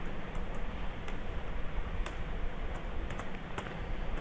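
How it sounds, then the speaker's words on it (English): Keyboard typing on a computer while entering C# code, with sparse, light key clicks spread irregularly over a steady background hiss; no voices. "In this way I will be typing in all through."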